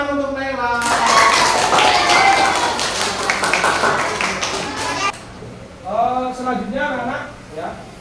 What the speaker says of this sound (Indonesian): tepuk tangan untuk Nela